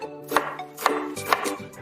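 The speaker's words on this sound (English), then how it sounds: "I cried while chopping onions." A knife chops onions on a board at a campfire cooking setup, four sharp, evenly spaced cuts ringing out close and clear with no talking.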